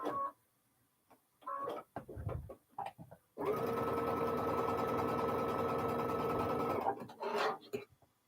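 A sewing machine stitches fabric squares for a quilt beside wonder clips and a thread catcher, with one steady run of about three and a half seconds, close and loud, between quieter handling noises before and after.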